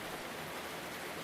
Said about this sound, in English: Outside, the rain thickened for a few minutes